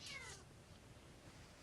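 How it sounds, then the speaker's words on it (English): A single short cat meow from the Minecraft Tekkit modpack, a faint high cry right at the start, fading into quiet room tone. "You killed a docile cat."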